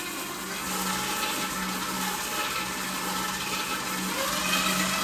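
Electric mixer creaming softened butter with sugar for a marble cake, giving a steady, loud, continuous whirring drone with no pauses throughout.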